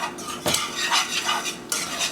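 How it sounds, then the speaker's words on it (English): A whisk scrapes and stirs melted butter and flour together in a pan for a seafood gratin sauce, making a few loud rhythmic strokes with clinking against the metal, up close. "use a whisk to mix both the butter and flour"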